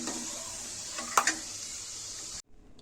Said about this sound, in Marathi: शेंगदाणे जे आहे चांगले फ्राय झाल्यानंतर आपण यांना काढून घेऊया